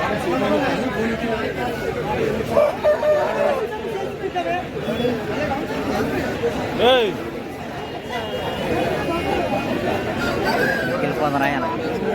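A local country rooster at a livestock market crows once mid-clip, a rising and falling call over constant crowd chatter and clucking fowl nearby, with people talking throughout.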